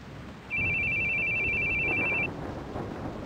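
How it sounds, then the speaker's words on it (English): An in-game phone rings in The Boogie Man, a horror game set on a small island at night: a steady electronic ring tone lasting under two seconds, clear over a dark, muffled ambient background. "Your phone's ringing."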